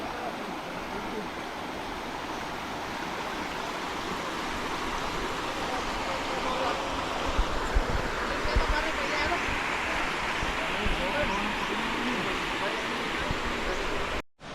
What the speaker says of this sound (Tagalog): Sarap sa tenga yung pagaspas ng alon na pagaspas ng tubig.